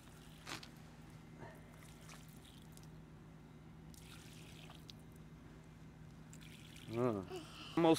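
Hot water is poured, giving a steady low trickling wash with a few drips. It is quiet and continuous and sits under faint background sound, with brief voices near the end.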